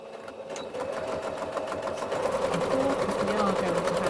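A sewing machine runs steadily while stitching a drawstring make-up bag, its fast rhythmic needle chatter continuous and close, starting softly and growing slightly louder, with a voice speaking over it.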